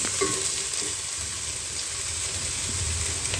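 Ingredients for prawn biryani sauté in a pan, a soft steady sizzle and hiss with a few faint stirring scrapes, fairly quiet and with no voices.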